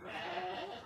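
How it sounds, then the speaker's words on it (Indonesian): A farm sheep kept as livestock gives a single close, wavering bleat that lasts under a second and carries clearly over a quiet background. "domba ini merupakan hewan ternak kami"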